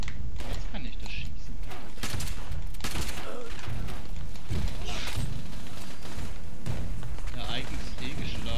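Gunfire in the video game Fallout 76, with bursts of shots and mechanical clatter running throughout, loud and dense, and people talking over it.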